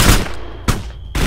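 Three sharp, loud gunshots crack out in ArmA 3, spaced about half a second apart, each with a short fading echo tail.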